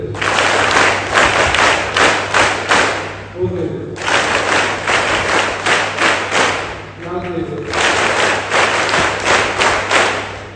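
Students at a government pre-university college achievers' ceremony in Bailur clap together in unison, each round a dense burst of many hands, with a voice calling out the count between rounds over a steady background hum.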